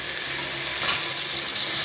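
Ginger garlic paste, onion and tomato sauté in a pan for mushroom biryani, giving a steady broad sizzling hiss close by, with no talking.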